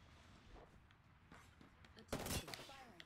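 Gunfire in Apex Legends, a faint rattle of shots in the background that swells into a brief louder burst near the end, low in level beneath ambient game noise.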